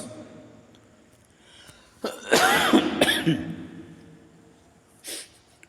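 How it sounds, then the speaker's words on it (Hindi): A person coughs harshly a couple of times in the middle, with a quieter throat sound a moment later, against a faint room hum. "सॉरी, खांसी के लिए थोड़ा प्रॉब्लम"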